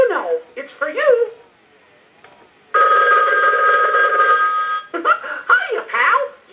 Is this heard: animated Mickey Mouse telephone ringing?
yes